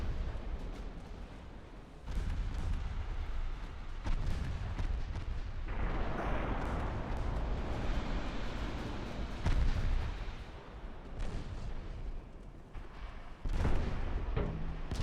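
Naval guns firing in Ultimate Admiral Dreadnoughts: repeated deep, heavy booms roll out at irregular intervals over a constant rumbling sea-and-engine bed, loud and without speech.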